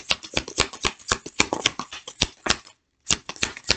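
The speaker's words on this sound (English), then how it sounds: "I'll pull one card." Tarot cards shuffled by hand, a rapid run of crisp riffling slaps and flutters with a brief pause near the end before a few more bursts, close and fairly loud with no talking.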